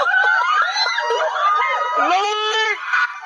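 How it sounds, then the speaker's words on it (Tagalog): Screams and shrieks from people riding theme park rides, rising and falling in pitch and overlapping with laughter and crowd chatter, loud and continuous throughout. "May mga naririnig na ako sumisigaw ng mama."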